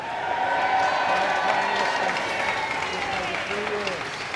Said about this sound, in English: Applause from MPs and supporters who are on one side of Downing Street.